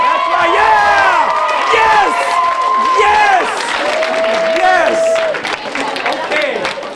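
An audience at a speaking event cheers, whoops and claps loudly in a sustained burst, with many overlapping shouts and yells that taper off toward the end.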